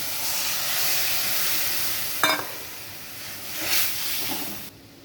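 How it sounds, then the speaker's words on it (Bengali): Moong dal hits hot fried spices in a pan, giving a steady close hiss and sizzle with a short sharp clatter partway through before the frying noise drops away at the end. "মশলাটা একটু ভাজা ভাজা হয়ে গেছে, এবার আমি ডালটাকে দিয়ে দিচ্ছি।"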